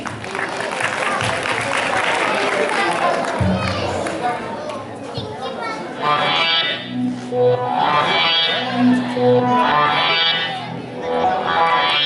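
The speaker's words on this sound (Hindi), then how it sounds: "तालियों की आवाज़ कम नहीं होनी चाहिए।" An audience at a New Year celebration in Jhabua claps and cheers in bursts, mixed with crowd chatter, children's voices and music, while people talk throughout.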